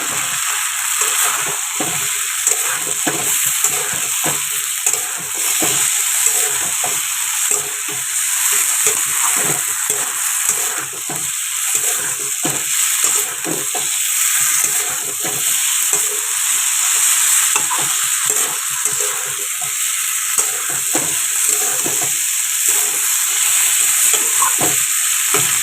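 Fried potatoes stirred into a vegetable curry with spices in a kadai, giving steady oil sizzle with repeated scraping and stirring strokes throughout, close and fairly loud, no voices.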